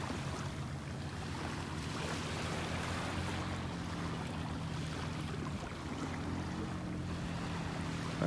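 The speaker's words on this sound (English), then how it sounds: "Just can't escape the sound of that dredging barge out there." A dredging barge offshore from a beach in North Naples, Florida, sends a steady, distant engine drone across the water, mixed with soft surf and wind buffeting the microphone, continuous and even throughout.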